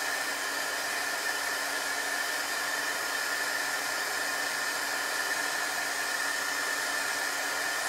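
A hair dryer blows a steady, even whoosh without pause, drying chalk paste on a silk screen transfer. The sound is close and unchanging, with no speech.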